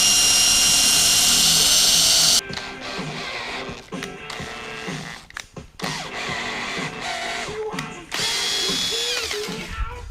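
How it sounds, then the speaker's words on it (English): High-pitched power drill whirring in bursts while drilling and tapping a hole for an M3 screw, loud and close, with short pauses and changes in motor pitch between passes. "So I'm drilling and tapping it for an M3 screw"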